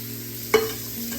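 Shrimp egg rolls frying in oil in a pan give a low, steady sizzle, broken by a single sharp clink of a utensil partway through.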